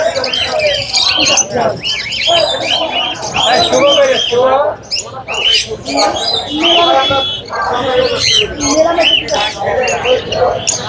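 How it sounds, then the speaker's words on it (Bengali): A seven-month-old lory parrot calls repeatedly among other birds at a Mirpur bird market, loud squawks and chirps mixed with a busy din of voices and people talking nearby. "এটা লরি পাখি"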